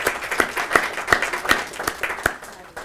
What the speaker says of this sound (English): give a round of applause to Mrs. Mary Quilter